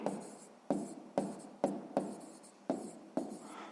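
Close, quiet handwriting on paper while a maths problem is solved: six or seven short scratching strokes in a steady rhythm, each a brisk pen scrape followed by a brief gap, with no voices.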